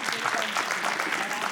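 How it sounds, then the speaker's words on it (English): Audience applause at a preschool annual function, a steady wash of many hands clapping that fills the whole moment without a break. "please give a huge round of applause for him"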